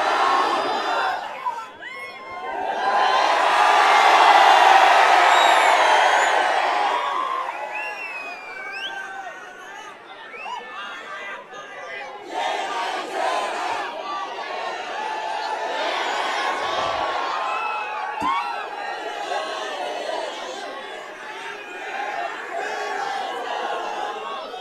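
A large crowd at an AIMIM political rally in Aurangabad roars and shouts back in response to a chant, with a loud surge of massed voices early on, then sustained cheering and chatter.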